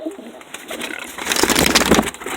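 Pigeon cock bird, a show pigeon among Birmingham Rollers and homers, gives low throaty coos near the microphone, then a burst of wing flutter and scuffling as it startles.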